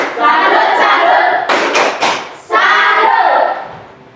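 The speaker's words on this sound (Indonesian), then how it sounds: "Tepuk salut" A classroom of students stands and claps a rhythmic salute clap: sustained crowd applause, then three sharp unison claps, then applause again, loud and close.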